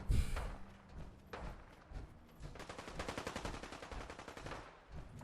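Minigun fire in the Fallout 4 video game, a sustained rapid mechanical burst of shots with a spin-up, fairly quiet in the mix, running for several seconds.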